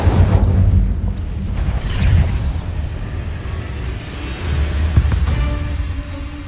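Incendio fire spell cast in a wizarding video game, a loud burst followed by a rolling, roaring whoosh and scattered crackles that fade over several seconds, no voices heard.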